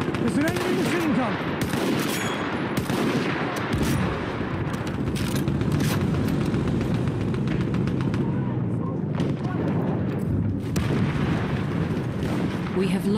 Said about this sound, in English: There's an enemy machine gun!